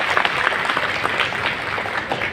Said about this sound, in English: So can we have a round of applause for both of them together?